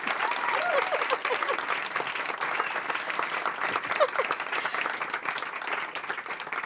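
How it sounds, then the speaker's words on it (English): An audience applauds at a book talk on designing inclusive cities, a sustained bed of many hands clapping at moderate distance, steady throughout with slight swells. "Now we can applaud."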